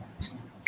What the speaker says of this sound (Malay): minta maaf Ana terbatuk-batuk sikit